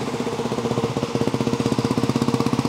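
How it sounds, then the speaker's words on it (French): A motorcycle engine runs with a rapid, pulsing exhaust beat that quickens slightly, close and fairly loud, with no talk over it. "on va écouter ensemble le bruit de la moto"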